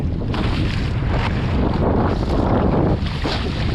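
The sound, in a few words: wind blowing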